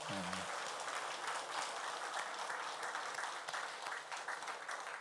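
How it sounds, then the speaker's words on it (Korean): A church congregation gives dense, sustained applause for its vocal ensemble, a steady wash of many hands clapping from start to finish, with a brief low voice at the very beginning. "우리 중창팀한테 박수 한번 하실까요?"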